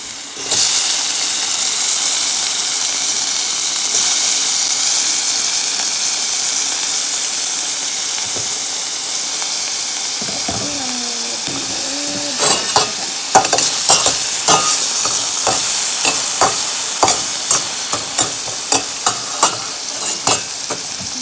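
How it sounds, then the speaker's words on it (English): Onions and tomatoes sauté in olive oil, a steady close hiss and sizzle throughout, joined midway by a brief tonal squeal and then repeated sharp clacks of a utensil stirring against the pan. "I fried some onions, sauteed some onions and tomatoes. I usually do it in olive oil."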